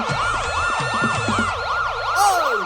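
An ambulance siren wails loudly and continuously up close, its pitch sweeping up and down in a steady repeating cycle with a faster yelp near the end, with no voices over it.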